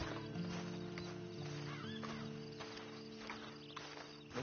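Horse in the video game Red Dead Redemption 2, hooves clopping and a brief whinny over ambient crickets and steady background game sound, fairly quiet.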